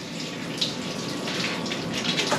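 Ice-cold shower water at about 2 degrees Celsius sprays steadily from a handheld shower head, a continuous close hiss and splatter with slight surges, no talking.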